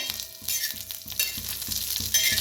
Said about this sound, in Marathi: मिरची छान अशी भाजायला लागलेली आहे. आता ह्याच्यातच टाकूया आपण शेंगदाण्याचा कूट.